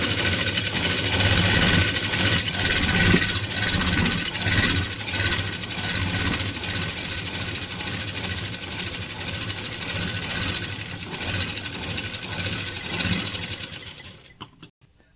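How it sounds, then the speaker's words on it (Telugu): Sewing machine running steadily for about fourteen seconds while stitching a narrow fold along a shirt collar for a school uniform shirt, a loud continuous whirring hum that cuts off abruptly at the end. "ఫస్ట్ దీనికి చిన్న మడత కుట్టుకోవాలి సన్నగా."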